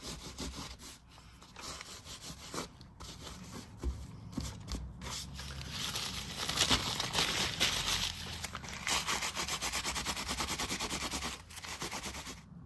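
Glass mosaic coasters are rubbed hard with crumpled newspaper to lift off excess grout, giving a continuous close scratchy rasping and crinkling that swells louder midway and stays steady, with no talking.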